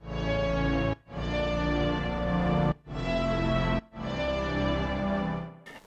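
A synth pad from the Misty Hills preset of the All Textures plugin, slightly modified, plays sustained rich chords in three long swells broken by brief gaps, full and steady with a gently moving texture and no voices.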